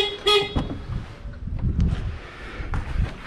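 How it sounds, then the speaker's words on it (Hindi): Car unlocked with its remote key fob, a short, sharp horn-like chirp near the start, followed by faint outdoor rustling and a few light knocks. "गाड़ी को अनलॉक करते हैं हम लोग."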